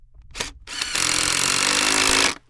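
A power drill drives screws through RV sealant and butyl tape, with two short bursts followed by one long, steady whir of the motor that runs nearly two seconds before stopping, close and loud with no talk.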